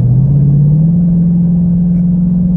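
A 2018 Ford F-150 with a 10R80 transmission labours under acceleration while stuck in gear, failing to downshift, giving a steady, loud low engine drone with a slight rise in pitch and no talking.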